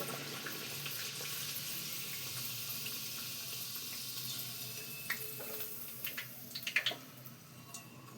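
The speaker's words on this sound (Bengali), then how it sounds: "আস্তে করে তেলে দিয়ে দিয়েছি এটা কিন্তু একদম ডুবো ফ্রাই হবে লুচির মতো" Fish kachori deep frying in hot oil like luchi, a continuous soft sizzling hiss with a few sharper crackles and pops near the end.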